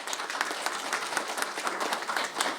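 Audience applause at a business summit on wealth building in real estate: steady, dense clapping from a crowd, fairly loud and continuous throughout without a break.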